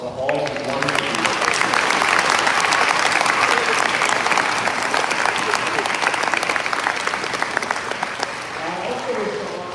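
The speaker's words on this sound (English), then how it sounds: "Will you please join me in a warm round of applause for all of the wonderful people." A school inauguration ceremony audience gives a warm round of applause for the people leading it, loud and sustained for close to ten seconds before easing slightly at the end.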